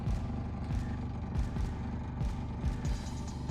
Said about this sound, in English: You hear the fuel pump? It is pumping.